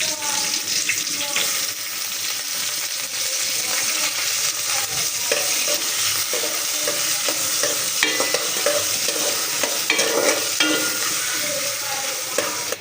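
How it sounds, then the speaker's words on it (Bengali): Chopped onions fry in a pan over nigella seed and dried chili tempering, giving a steady loud sizzle with scraping stirs throughout and little talk. "তো এখানে পেঁয়াজটা ভাজা হয়ে গেছে"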